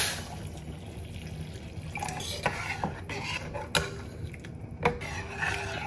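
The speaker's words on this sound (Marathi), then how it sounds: "आणि आपण आता पाणी घालून घेऊया।" Water poured into a pot of cooked mixed dal for Maharashtrian-style varan, a soft, steady splashing wash with a few sharper knocks and clinks from the pot, fairly close and quiet with no talk.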